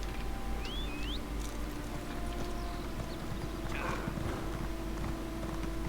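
Horse hooves clip-clop at a steady rhythm in The Elder Scrolls Online, a continuous trotting beat under faint ambient game sounds, with a couple of brief chirps early on.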